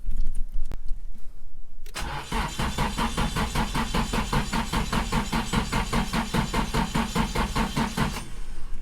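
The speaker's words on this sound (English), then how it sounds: "We're just gonna let it crank for a little while longer just to make sure we build some oil pressure" A freshly built Nissan SR20 engine in an S14 cranks on its starter with a steady, rapid rhythmic churn lasting about six seconds without catching, loud and close, with no talking.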